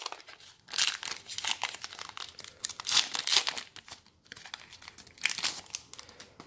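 Pokémon card booster pack foil is ripped and crinkled open up close, with loud bursts of crackling and tearing that come in several waves and leave short pauses between them.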